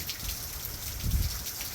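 Steady rain during a tropical storm hisses evenly across the whole moment, with a brief low gush of water or wind partway through and no voices.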